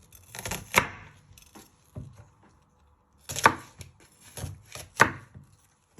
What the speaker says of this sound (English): Then turn it around, and then you just want to just chop it.